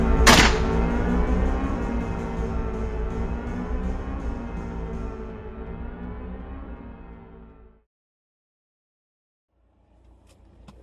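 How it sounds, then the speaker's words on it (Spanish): A single sharp gunshot crack at the start, followed by a loud sustained droning tone that cuts off abruptly into silence. "se escuchó el sonido de un disparo"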